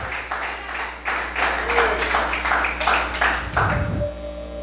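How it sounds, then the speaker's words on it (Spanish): A congregation claps together during a Spanish-language church service, a run of loud, evenly spaced rhythmic claps over a low hum, ending with a deeper rumble. "Dele palmas al Señor porque Él es bueno"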